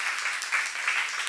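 Applause from a church congregation at a seminar, a brief steady patter of many hands clapping at moderate distance, with no voices over it.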